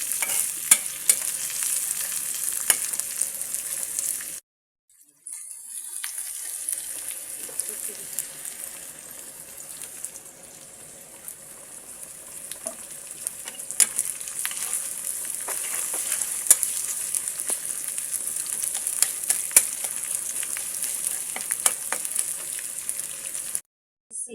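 Chopped onion and garlic fry in a pan for a vegetarian mushroom dish, giving a steady bright sizzle with occasional stirring scrapes and a brief break partway through.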